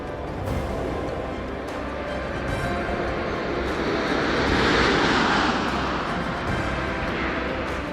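Space Shuttle Atlantis on its final landing: a broad, steady roar of the orbiter and surrounding air noise that swells toward the middle and eases slightly, with no voices heard.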